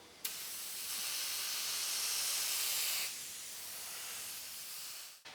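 An airbrush sprays paint freehand for a blurred background, giving a steady close hiss of air that starts abruptly, holds for about three seconds, then drops to a softer hiss before cutting off.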